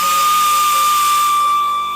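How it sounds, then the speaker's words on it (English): Sandpaper pressed against a spinning wood piece on a lathe, a steady high whine with a hissing abrasive rasp, close and continuous, fading slightly at the end. "I'm sanding from smallest diameter to largest, where the paper comes around going uphill"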